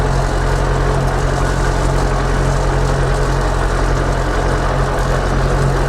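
A YuMZ-6 tractor with a D-240 diesel engine runs while driving with its hood removed, a loud, steady, close engine drone with a deep low rumble and no speech.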